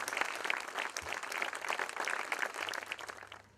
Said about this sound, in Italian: possiamo subito ringraziare con un applauso chi ci ha fatto venire qua